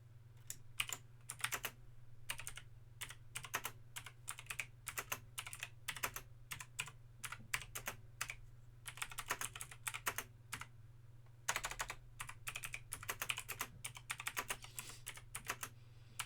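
Steady, rapid typing on a Logitech G Pro X mechanical gaming keyboard with clicky keystrokes, close up, with a brief pause partway through and a low hum underneath.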